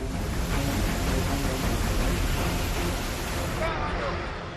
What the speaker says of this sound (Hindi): सड़क पर पानी इतनी रफ्तार से बह रहा है कि ट्रैफिक रुक गया है